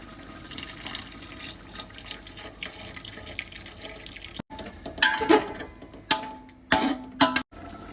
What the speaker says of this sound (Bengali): জল দিয়ে নেড়ে দেবো